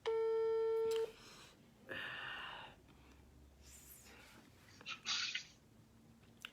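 A telephone tone sounds loud and steady for about a second as a call is placed, followed by softer rustling, breathing and a brief sneeze-like burst.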